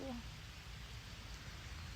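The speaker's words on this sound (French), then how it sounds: "On est en train de se prendre un déluge de pluie." Heavy rain pours down at a temple in Cambodia, a steady, dense hiss with no break, fairly quiet and close, with no voices.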